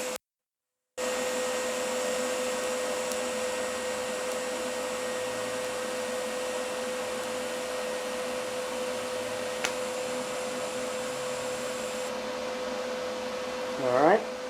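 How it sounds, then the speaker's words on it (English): A TIG welder runs one short weld on a stainless steel exhaust O2 sensor bung, giving a steady, even electric hiss and hum that holds for about eleven seconds before cutting off. "I'm going to go ahead and just run one short little weld."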